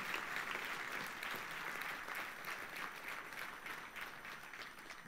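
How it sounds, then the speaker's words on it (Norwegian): Sustained applause from an audience at a Norwegian school vocational championship, a dense patter of many hands clapping at a steady level, slightly distant and fading a little toward the end. "Gi dem en stor applaus, dere!"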